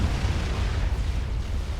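Mass fabricators explode in a Supreme Commander strategy battle, a deep, continuous rumbling boom that rolls on without a break, loud and low with no talk.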